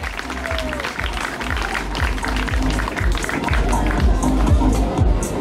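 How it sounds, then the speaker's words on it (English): A crowd at an amateur freestyle windsurfing prize giving in the Caribbean applauds and cheers for the second-place finisher, with loud, sustained clapping and shouts from close by under wind and background bustle. "A big applause for Luca from Curaçao."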